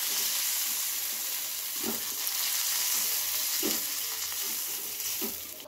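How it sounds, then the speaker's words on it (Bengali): Cauliflower pieces frying in hot oil give a steady, close, loud sizzle, broken every couple of seconds by the scrape of a stirring spoon, with no talking. "ফুলকপিটাকে আমি লাল লাল করে ভেজে নেব"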